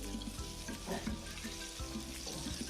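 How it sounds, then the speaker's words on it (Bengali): Onions fry in oil with a close, steady sizzle and frequent scraping and knocking of a spoon stirring them in the pan, quiet overall and without any voice. "পেঁয়াজটা একটু ভালোভাবে আমি ভেজে নিচ্ছি"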